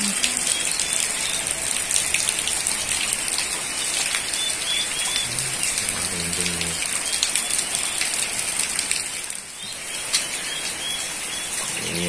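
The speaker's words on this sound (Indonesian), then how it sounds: "Hujan kok ora wis-wis." Heavy rain pours down in a Merapi town, a dense, loud, continuous hiss of drops on surfaces that lasts throughout, with faint bird sounds in the background.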